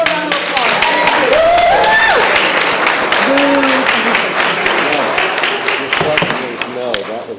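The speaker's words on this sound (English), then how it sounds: "let's give our new board members and our old board members one more round of applause" At a Board of Education meeting, a room breaks into a loud round of applause for new and outgoing board members, with cheering voices and whoops over steady clapping.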